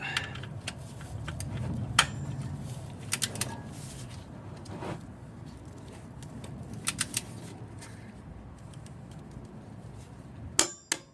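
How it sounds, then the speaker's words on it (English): A torque wrench set to 25 foot-pounds tightens lug bolts during a manual transmission and differential fluid change, giving a few sharp, isolated metallic clicks and clanks over a quiet background, with no talk. "So I went ahead and grabbed my torque wrench and I set it to 25 foot-pounds."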